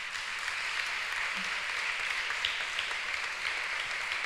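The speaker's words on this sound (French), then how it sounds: "On peut les applaudir chaleureusement." An audience at an evening closing ceremony for a 2019 prize gives the award winners steady, dense applause that holds evenly throughout at a moderate distance.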